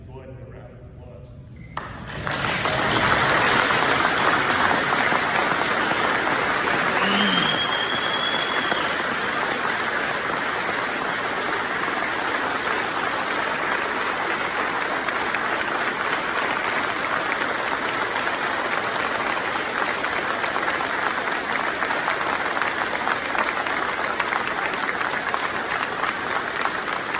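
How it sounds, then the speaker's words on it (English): Mourners at a eulogy give a standing ovation, a dense, sustained wash of applause that starts abruptly and holds steady and loud for over twenty seconds. "Everybody deserves a standing ovation at some point in their time."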